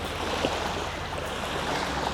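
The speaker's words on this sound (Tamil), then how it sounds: "இதுதான் அந்த வந்து லகூன், மஸ்கிட்டோ லகூன். அப்படியே நல்லா அலை அடிச்சுக்கிட்டே இருக்குது." Waves lap steadily at the shore of Mosquito Lagoon, a continuous close wash of water with wind noise and no voices.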